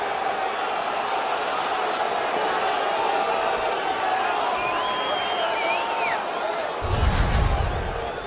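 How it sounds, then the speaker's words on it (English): Arena crowd noise from the NHL 17 hockey video game after an on-ice fight: a dense, steady roar of many voices with faint whistles and cheers, ending in a brief heavier thump-like swell. "You can hear the crowd."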